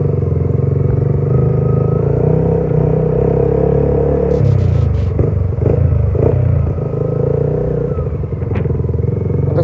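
A Yamaha Y15ZR motorcycle engine runs steadily nearby with a loud, even low hum and rumble, its tone shifting midway as it picks up slightly, with some light mechanical clatter.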